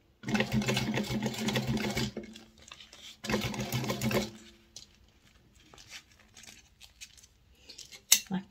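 A sewing machine stitching a fabric sunglasses case, two close whirring runs of rapid needle chatter separated by a short pause, then quieter handling sounds and a sharp click near the end.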